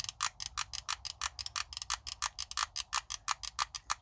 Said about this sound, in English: pull the trigger, it ratchets the solder through the tip down here